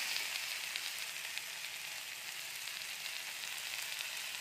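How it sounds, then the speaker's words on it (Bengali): Pointed gourd and potato curry with soybean chunks cooks in a pan, giving off a steady, even sizzling hiss with no voices. "এই যে পটল আলুর সবজি রান্না করছি, তার সাথে সয়াবিনও আছে।"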